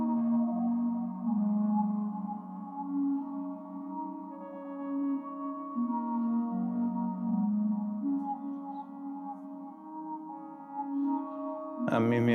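A sequenced synthesizer run through a Mimeophone delay with reverb, sustained tonal notes stepping in pitch and trailing into echoes, ending in a brief sharp burst.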